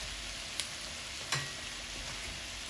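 Unsalted butter melts and sizzles in a stir-fry pan while making a shrimp and snap pea stir fry, giving a faint, steady frying hiss with a couple of small pops and no talking.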